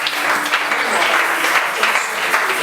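A church congregation applauds at a prophetic service, dense sustained clapping from many hands filling the room at close range, with cheering voices mixed into the crowd noise.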